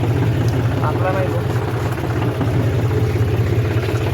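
Tractor engine running close by on a farm where a rotavator is fitted, a steady low rumbling drone throughout, with a voice talking over it.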